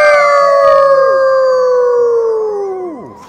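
People at a Great Wolf Lodge Halloween event imitate wolves with one long, loud, wavering howl in several voices that slides downward and fades at the end.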